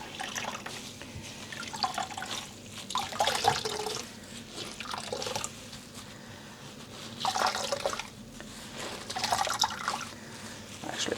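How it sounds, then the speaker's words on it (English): Water is squeezed from a freshly dyed, soapy Corriedale wool batt, giving soft wet squelches and trickling drips in several bursts separated by quieter pauses, with no talk. "let's see if I can squeeze the water out of it without putting strain on the fibers"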